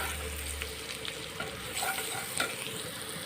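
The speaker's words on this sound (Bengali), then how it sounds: "কাঁচা লঙ্কা আর পেঁয়াজটা আমি ভাজতে দিয়েছি, এটা ভাজা ভাজা হয়ে এসছে" Onion and green chili fry in fish oil, giving a soft steady sizzle close by, with occasional scraping taps of a utensil stirring the pan and no one talking.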